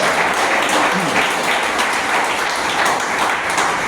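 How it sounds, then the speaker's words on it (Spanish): Steady, dense applause from a church congregation honoring the women of the home, filling the room evenly at full volume throughout without a break. "Dele un aplauso a la reina del hogar."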